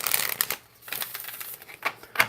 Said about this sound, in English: Shuffle it 2 more times and cut the deck.